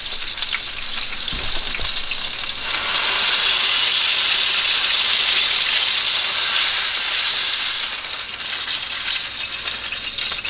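A burger topped with American and Swiss cheese sizzles in a hot pan, with a loud, steady hiss of frying and steam that swells after a couple of short knocks near the start and keeps going throughout.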